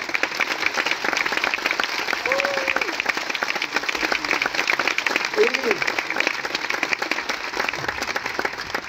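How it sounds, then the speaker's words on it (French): Sustained applause from a cinema audience at the Paris premiere of the film "Arco" with Natalie Portman and Sophie Mas, dense steady clapping filling the hall throughout, with a few voices faintly mixed in. "C'est vrai qu'on les applaudisse toutes les deux encore très fort."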